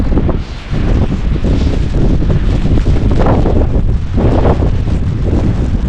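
Strong winter snowstorm wind blasting across an open area, a loud, steady roar buffeting the microphone with gusty surges and no voices.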